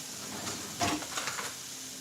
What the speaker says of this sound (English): We're gonna brown the onions a little bit.